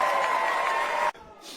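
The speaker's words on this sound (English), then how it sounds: "y'all give him a round of applause" Comedy club audience applauding and cheering, a dense burst of clapping that cuts off abruptly partway through, followed by quieter room noise.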